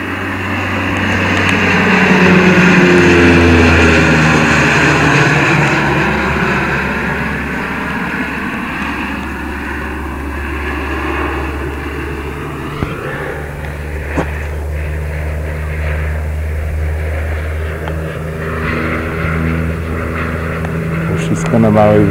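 A classic-version propeller airplane sweeps low over an air show crowd at a Mielec aero club anniversary, its engine drone swelling loud early then easing into a steady hum beneath ongoing announcer commentary, with a couple of sharp knocks.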